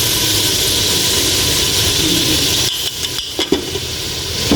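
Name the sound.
stirring ginger garlic paste frying with meat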